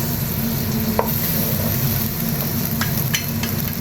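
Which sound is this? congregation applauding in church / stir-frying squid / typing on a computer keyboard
stir-frying squid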